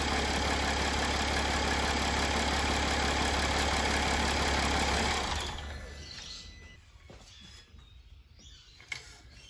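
Mercedes ML350 W164 engine idling steadily and loud right after an oil change, then shutting down around the midpoint, leaving quiet ambience with faint clicks and a small knock.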